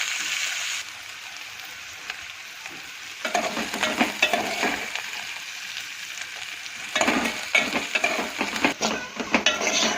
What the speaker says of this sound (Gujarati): તેલમાં બરાબર મસ્ત સાતળાઈ ગયા છે મારા ગિલોડા